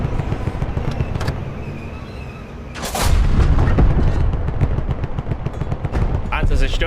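In a war video game, artillery fire destroys a tank with a sudden heavy boom, followed by a sustained loud rumble and crackle of gunfire and blasts, close and dense throughout.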